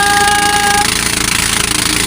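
Two engines run together in a loud, continuous roar with a rough pulsing texture, a steady tone fading out early, no talking.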